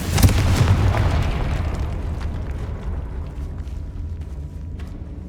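A Confringo fire spell explodes in Hogwarts Legacy with a loud, booming blast, followed by a long rumbling tail that slowly fades.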